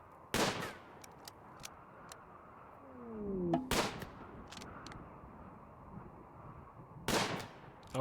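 Survival rifle shots ring out in a video game, three sharp, loud bangs spaced a few seconds apart over quiet background noise, with a short whoosh of game sound between them.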